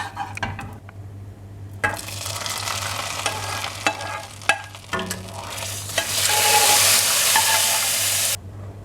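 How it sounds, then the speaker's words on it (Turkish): Prepared mint sauce poured over a pot of Turkish yayla soup, hissing and sizzling as it hits, with light clinks of utensils and a loud, steady sizzle building near the end. "Hazırladığımız sosu çorbamızın üzerine döküyoruz."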